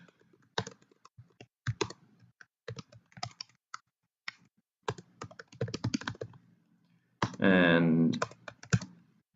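Keys clack on a computer keyboard in short bursts and scattered taps while someone talks over the typing, ending in a longer spoken stretch.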